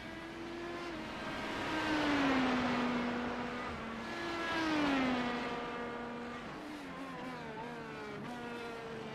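An IndyCar engine heard onboard the number 57 car, race leader Ziegler's, at Laguna Seca, with the driver gentle on the throttle. The pitch climbs and falls repeatedly through rev sweeps and gear changes, a sustained buzzing wail with no talk.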